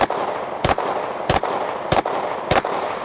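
A rifle fires at a target in evenly spaced shots, four sharp loud reports about half a second apart over a steady outdoor background.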